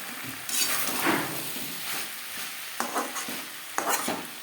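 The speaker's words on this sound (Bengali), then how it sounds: "মশলার সাথে আলু পটল বেশ ভালো করে কষিয়ে নেওয়া হয়ে গেছে" Potatoes and pointed gourd fry with spices in a pan, sizzling steadily while a spatula stirs and scrapes them in several bursts, close and moderately loud.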